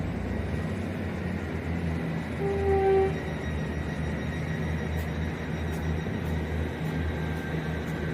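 A Great Western Railway passenger train, unit 802017, rumbles steadily nearby at Exeter St Davids station with a low continuous drone, a brief high tonal whine rising midway as it pulls away.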